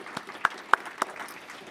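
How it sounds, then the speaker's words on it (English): An audience's round of applause at a talk, faint and brief, with a few sharper claps standing out over thin background noise. "could we just have a round of applause for Karen Sigeman?"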